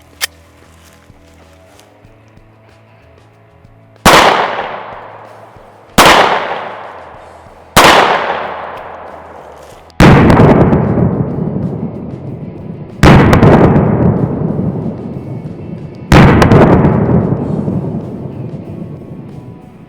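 Ruger Security 9 pistol firing 115 grain full metal jacket 9mm rounds at a septic pump outdoors: six loud, sharp shots spaced a few seconds apart, each decaying with a ringing tail, the last three heavier.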